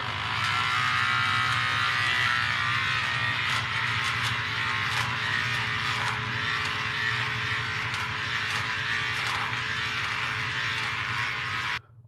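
An inexpensive battery-powered electric shaver trims a beard with a steady close-up buzz and whine that holds for about twelve seconds, then cuts off abruptly.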